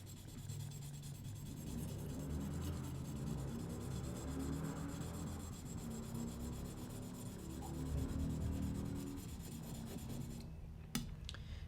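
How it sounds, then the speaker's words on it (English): A knife blade is drawn over a Spyderco medium sharpening stone, working mainly at the tip, in a steady close rasping scrape that runs unbroken for about eleven seconds and ends with a brief sharp click, with no voices. "I will focus my sharpening on the tip, on the edges, to keep the stone relatively flat over time."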